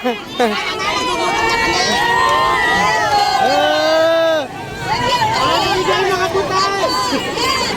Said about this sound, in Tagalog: Oh, sumigaw mga taga Nabotas, sumigaw!